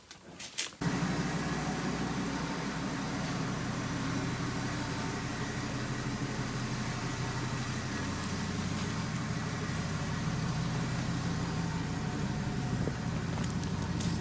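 A 1999 second-generation Dodge V10 truck fitted with Bilstein 5100 rear shocks under way, with a steady, loud engine and road rumble that starts abruptly and continues unbroken from inside the cab.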